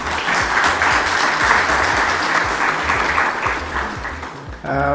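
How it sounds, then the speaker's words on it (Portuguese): A crowd at a petroleum-sector conference in Angola applauds musicians, loud, dense clapping sustained for over four seconds before a voice cuts in at the end. "Uma salva de palmas para eles, não é?"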